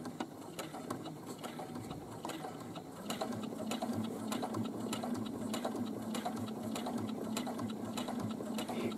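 A sewing machine stitching a pocket onto a boomerang bag, running in a steady fast rhythmic clatter of needle strokes close by, with no talking.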